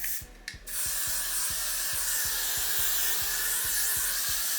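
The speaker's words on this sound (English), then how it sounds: "But to seal it, I'm going to use the spray." Hairspray misted over a sleek bun, a steady close hiss lasting several seconds behind a rapid, regular pumping click, with no voices.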